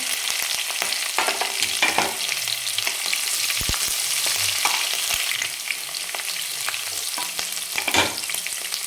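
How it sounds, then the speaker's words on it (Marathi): Garlic and green chili hitting hot oil with bloomed cumin seeds, a loud, steady sizzle of frying with scraping stirs and small clinks throughout, no voices. "जिरे छान फुलल्यानंतर आपल्याला याच्यामध्ये लसूण टाकायचं आहे यानंतर हिरवी मिरची टाकू"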